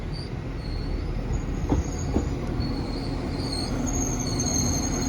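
Class 195 diesel multiple unit arriving at Chester station from Leeds via Manchester Victoria, a steady rolling rumble with high wheel squeals and a couple of sharp clanks as it draws in, no voices.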